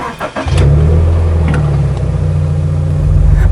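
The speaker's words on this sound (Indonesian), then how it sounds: "Bukan suara Toyota, suara Subaru ini." A Toyota 86 with its Subaru boxer engine accelerates from a standstill on a test drive, the low engine drone rising and holding steady, heard close from inside the car.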